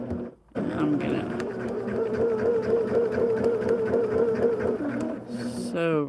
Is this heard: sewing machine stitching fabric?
yes